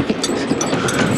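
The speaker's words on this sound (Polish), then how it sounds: "Pociąg nam ucieka." A train pulling away from a station in a 1960s wartime setting, a steady loud rumble of rolling cars with faint rhythmic clatter, no voices over it.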